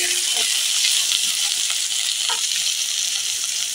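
Potatoes and chopped papaya fry in a pan, a steady close sizzle that holds unbroken throughout with faint stirring clinks and no talk.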